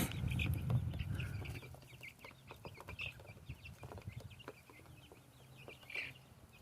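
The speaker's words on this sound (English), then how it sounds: "It's pretty fun to sit here and watch the chickens" Backyard chickens, including Japanese bantams and Delawares, cluck and chatter in soft, irregular bursts at close range, with a low rustle near the start and scattered higher calls throughout.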